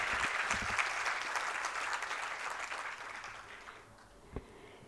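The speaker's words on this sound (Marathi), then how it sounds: "या सर्व मान्यवरांसाठी एकदा जोरदार टाळ्या वाजवून दाद देऊया आपण त्यांना" An audience applauds the guests at a trust's 30th anniversary cultural celebration, steady dense clapping that gradually thins and fades toward the end, with a single sharp thump near the close.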